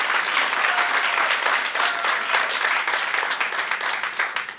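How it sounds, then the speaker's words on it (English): An audience at a Tri-M music honor society induction ceremony claps for musicians, producing a full, steady burst of applause that tapers slightly at the end. "How about another round of applause for those musicians so far?"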